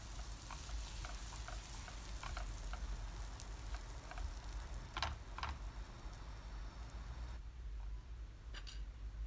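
Dried mint sizzles and fries steadily in butter in a pan, a soft constant crackle with occasional sharper pops and light clinks.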